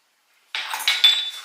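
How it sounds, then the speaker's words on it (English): Utensils clink and scrape against a bowl as two flours are combined for sour cream sugar cookies, starting abruptly after a moment of silence and continuing as close, busy clatter. "So I'm going to combine those 2 flours."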